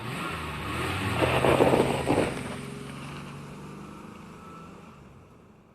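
A Ferrari 488 GT3 race car engine in iRacing at Brands Hatch GP swells to a loud, rasping roar, then settles into a steady hum that gradually fades away, with no talking.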